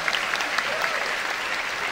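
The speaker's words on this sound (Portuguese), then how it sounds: "Uma salva de palmas pro Rogério." Audience at a Brazilian stand-up comedy show applauds in a brief, steady burst of dense clapping, even and sustained throughout with no speech over it.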